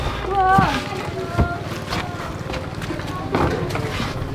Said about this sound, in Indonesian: Jadi kita pakai boot yang ada mesinnya.